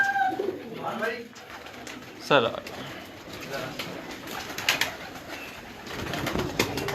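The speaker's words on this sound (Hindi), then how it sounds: "कबूतर हैं सारे, आप शो करें व्यूअर्स।" Pigeons in a breeder's rooftop loft in Islamabad, cooing softly and fluttering at moderate distance beneath a voice talking, with a steady outdoor background hum.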